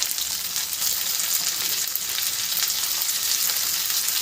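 Boneless chicken pieces fry in a pan with a steady, close, bright sizzle and crackle that holds even throughout, with no voices over it.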